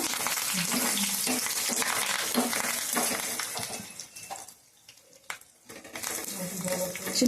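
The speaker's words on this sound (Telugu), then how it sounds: "పప్పులోకి అయితే తాలింపు వేస్తున్నాను" Hot oil sizzles loudly and steadily in a pan as tempering with onions is made for dal, fades briefly to near quiet with a few clinks, then hisses up again.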